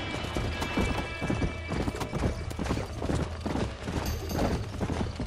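Horse hooves clip-clop steadily in the video game Red Dead Redemption, with a whinny breaking through amid a busy, dense backdrop of ambient game sound and rumble.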